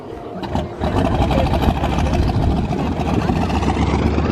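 A small airplane engine turns over and settles into a loud, steady running drone at a pancake breakfast fly-in in Fremont, Michigan, with the noise filling the whole stretch close by.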